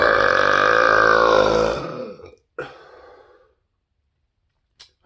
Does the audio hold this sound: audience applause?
no